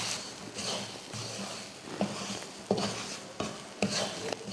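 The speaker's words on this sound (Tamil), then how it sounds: "ரவையை சேர்த்துட்டு நல்லா கலந்து விட்டுருவோம்" Semolina being stirred into masala in a pan for a breakfast dish, with steady scraping and a low sizzle broken by several sharp spoon knocks against the metal.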